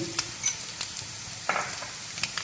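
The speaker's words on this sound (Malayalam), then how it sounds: "ഇതെല്ലാം ചേർത്ത് നന്നായിട്ടൊന്ന് ഇളക്കി കൊടുക്കണം" Shrimp and spices such as pepper powder, garam masala and turmeric stirred in a hot frying pan for a Kerala-style shrimp fry, with soft sizzling and a few scraping strokes of the spoon, fairly quiet and close.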